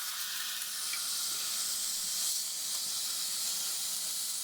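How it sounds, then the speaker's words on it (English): Ground bison sizzles in a hot pan, a steady, fairly loud hiss that continues evenly throughout without talk. "we're adding our bison to the pan"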